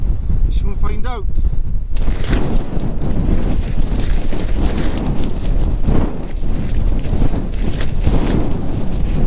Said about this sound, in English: but the wind, man, the wind.